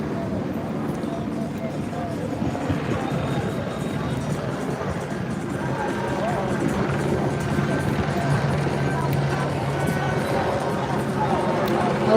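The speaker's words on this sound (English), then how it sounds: "That's an LAPD helicopter above." An LAPD police helicopter flies overhead above a Los Angeles protest at MacArthur Park, a continuous rotor drone that holds steady and grows slightly louder over about twelve seconds, mixed with background crowd noise and voices.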